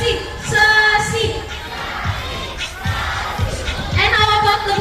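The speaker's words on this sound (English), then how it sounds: "Come on girls, let me hear you cheer." Girls in the audience at an aquarium sea lion show in Manila cheer and chant together. The crowd noise is loud, steady and echoing, rising in waves of excited shouting from start to finish.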